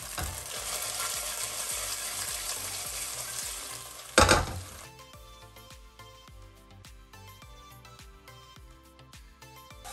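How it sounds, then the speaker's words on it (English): Garlic, chili and ginger sizzle steadily in a pan over low heat, a dense close frying hiss with a brief louder burst midway, then a quieter crackle over a soft regular ticking. "So we are going to fry everything in the pan for about 30 to 45 seconds"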